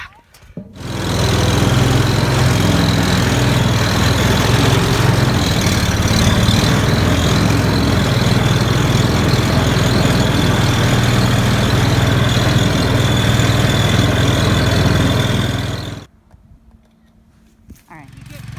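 Engine of a rebuilt Chinese four-wheeler built from junkyard parts, idling loud and steady up close for about fifteen seconds before cutting off, with voices in the background.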